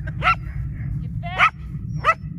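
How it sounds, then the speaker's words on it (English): Three sharp barks from Belgian shepherd dogs ring out at intervals, fairly close, over a low steady hum. "She just noticed the Belgians barking."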